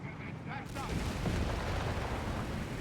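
Artillery barrage and strafing run in Company of Heroes 3, a dense, continuous rumble of explosions and gunfire with heavy low booms throughout, loud and sustained without letup.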